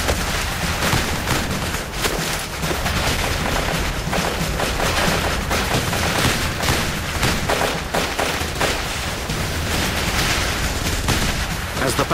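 Dense, sustained battlefield gunfire with overlapping rifle and machine-gun bursts and distant booms, loud and continuous throughout, as in a battle reenactment of Navy SEALs storming an Al Qaeda camp on a mountain.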